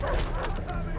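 Dogs in the jungle shooter Far Cry 3 bark and yip close by in a short, agitated burst, with other game noise underneath.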